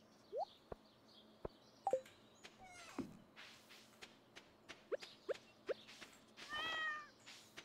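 Several short cat meows from a Stardew Valley farm, scattered across the clip among faint game chimes and clicks, fairly quiet with no talking.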